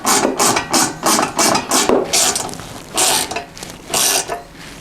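Bolts being tightened on steel footwells fitted to a Can-Am Outlander quad, heard as a close, loud run of repeated ratcheting bursts, some rapid and clustered, others longer and separated by brief pauses.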